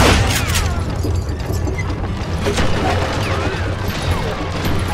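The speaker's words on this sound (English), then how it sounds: "Who said you could throw dynamite?" A dynamite explosion in the Western shooter game Call of Juarez: Gunslinger, a loud, dense rumbling blast that sustains with debris-like crackle throughout.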